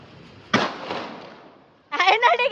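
A single firecracker bursts with a sharp, close bang whose rumble fades over about a second. A voice then speaks briefly.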